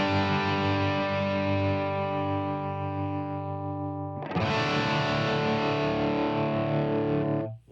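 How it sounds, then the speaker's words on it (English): A guitar plays sustained chords through a Line 6 POD Express amp with tremolo and distortion, one long ringing chord then a fresh strum that rings out before cutting off. "So that now turns the tremolo on and off"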